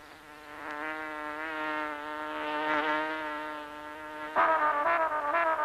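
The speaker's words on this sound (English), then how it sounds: "The huge bee and the yellow flower sat in a deck chair in the garden and kept on buzzing." A huge bee in a summer garden gives off a steady, droning harmonic buzz that swells and wavers in pitch, rising louder and rougher near the end.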